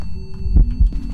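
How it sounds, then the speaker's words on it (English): A heartbeat pulses during a Phasmophobia ghost hunt: two soft, deep thumps about a quarter second apart over a low ambient hum, close and muffled. "Heartbeat."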